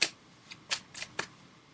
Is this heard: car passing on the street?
no